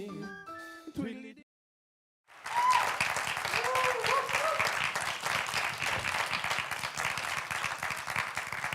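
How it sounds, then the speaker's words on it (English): Studio audience at a Michigan talk show, The Evan Michael Show, breaks into loud, sustained applause after a brief musical sting and a short pause, dense clapping with scattered cheers continuing to the end. "That was the Malik Brown sponsored applause jump"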